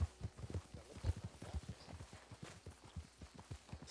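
Donkey hooves clip-clop at a quick, steady pace in the Red Dead Redemption 2 online video game, a faint, continuous patter of hoofbeats with no voices.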